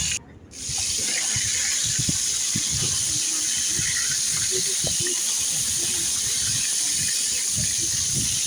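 Fish bones sizzle in hot oil while being fried for kata chorchori, a steady, close, loud hiss with scattered crackles that continues unbroken after a brief quieter moment at the start.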